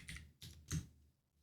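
Three quick bursts of typing on a computer keyboard, entering a web address into a browser, with soft clustered key clicks close by and a quiet pause after the last burst.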